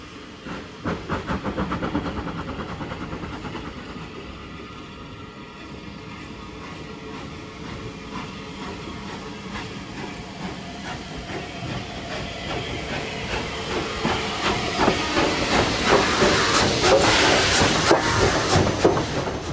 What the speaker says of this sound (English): This is 257 Squadron at work on the Swanage Railway.